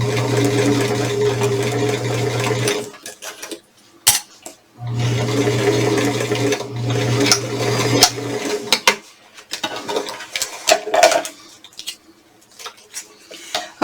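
A sewing machine stitches a seam on a fabric vaccination card holder, running in two steady bursts of motor hum separated by short pauses, followed by scattered clicks and handling noises from the machine and fabric, with no talk.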